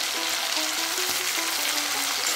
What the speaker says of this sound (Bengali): এর উপরে আমি এবার ভেজে রাখা চিংড়ি মাছটা দিয়ে দেবো।